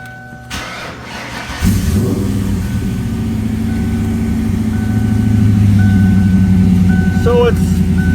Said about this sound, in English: I'll fire the car up.